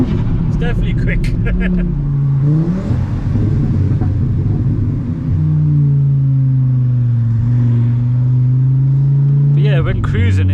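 A VW Mk6 Golf R fitted with a 500 bhp Audi RS3 2.5L five-cylinder engine accelerates in bursts, its loud, throaty engine note climbing and easing back as the revs change, with brief voices at the start and end.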